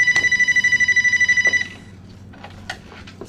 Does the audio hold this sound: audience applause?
no